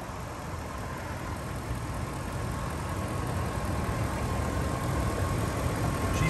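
A 5.4 liter Triton V8 in a 2003 Ford F-150 Lariat Super Cab FX4 4WD idles with the hood open, a steady, even engine drone heard up close with no talk.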